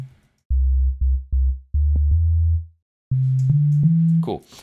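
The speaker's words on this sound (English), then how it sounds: "Right, so we have a basic sine wave." A series of deep, synthesized sine tones from Ableton's Operator, each a low pure hum sounding in short bursts, then a slightly higher sustained tone near the end.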